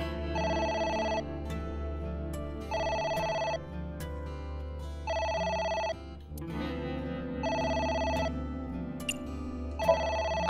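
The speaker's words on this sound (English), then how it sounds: "It's the phone. Maybe try picking it up?" A telephone ringing in the video game AI: The Somnium Files, an electronic ringtone repeating in regular bursts of about a second each over a steady background music bed.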